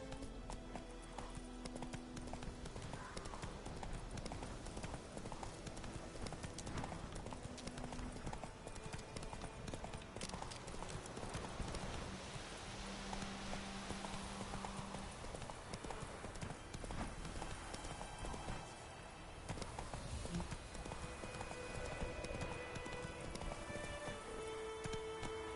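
A horse gallops steadily in a PS4 video game, its rapid clip-clop hoofbeats running unbroken and loud over a dense bed of game ambience and music, with a rain-like hiss underneath.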